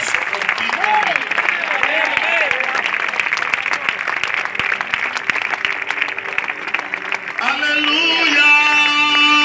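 Applause from a church congregation at an IPUC service in La Jagua de Ibirico, Cesar: dense, steady clapping filling the room, with voices calling out over it and a sung or sustained tone rising near the end.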